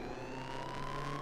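Several overlapping vanity-item sirens going off at once in the building game Trailmakers, with a steady gliding wail that rises slightly and holds loudly and continuously throughout, with no voices.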